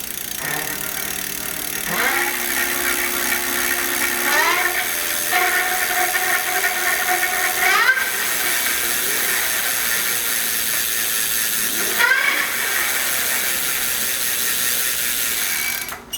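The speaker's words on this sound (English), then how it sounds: "So there is a little bit of noise that this hub motor makes." Electric hub motor on a Ride1Up Core 5 e-bike whining steadily, its pitch rising and falling in stepped sweeps as speed changes, with a continuous mechanical hum running throughout, close and moderately loud.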